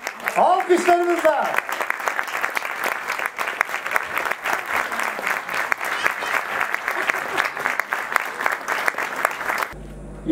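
Sustained audience applause fills a theatre awards ceremony hall, dense and steady for nearly ten seconds after a brief spoken introduction, then cutting off abruptly.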